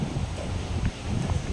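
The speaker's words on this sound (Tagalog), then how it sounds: "Hindi pwede lapitan kasi biglang lumalakas ang hangin." Strong typhoon wind roars steadily across an exposed coast, a dense continuous rush with gusty swells and buffeting against the microphone, with no talk over it.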